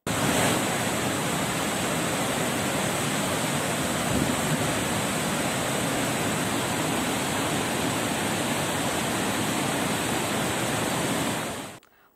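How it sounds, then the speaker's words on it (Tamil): Water roars down at Courtallam falls, a loud, unbroken wall of white noise close by that holds steady for the whole stretch before cutting off at the end. "ஐந்தருவி மற்றும் பழைய குற்றால அருவிகளில் தண்ணீர் ஆர்ப்பரித்து கொட்டுகிறது"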